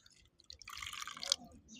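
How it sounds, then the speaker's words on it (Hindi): A little water poured into a cooking dish while making a home-cooked dish with chili and salt, giving a short, soft splashing trickle that rises and fades within about a second, quiet and close. "अब थोड़ा सा पानी डालते हैं"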